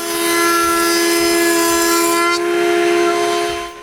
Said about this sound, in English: I route a groove in the interior of each frame.